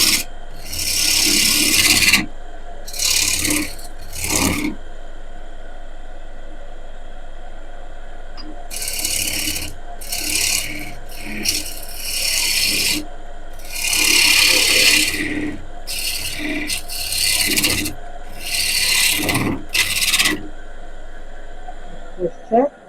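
Woodturning gouge cutting a wide-rim wooden bowl on a lathe, giving repeated loud rasping bursts of a few seconds each with short pauses between them, over a steady low machine hum.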